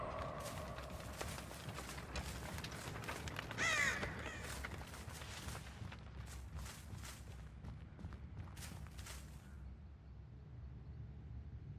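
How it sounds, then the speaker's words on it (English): Video game crows caw repeatedly against steady ambient noise, with hoof-like clopping running underneath throughout. "I keep hearing the crows."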